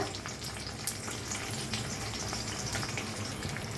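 An egg fries in a pan with oil, red chilli powder, salt and turmeric for restaurant-style fried rice, giving a steady, close sizzle throughout without pause.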